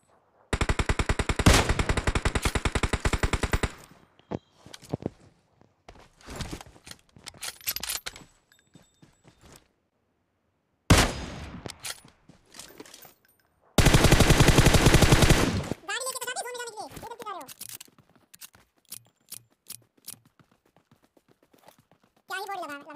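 Rapid automatic gunfire bursts from the mobile shooter Battlegrounds Mobile India, loud and dense in two main volleys with scattered single shots between, mixed with game effects and a voice talking.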